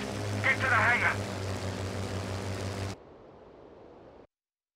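Propeller plane engine in a WWII aerial combat game on PS2: a steady, droning airscrew roar holds for about three seconds with a brief voice-like warble over it, then drops to a faint hiss and cuts to silence.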